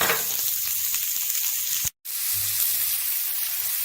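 Food browning in a pan for a gluten-free vegan high-protein curry, giving a steady close sizzle and frying hiss that cuts out briefly to near silence midway before resuming, with no talking.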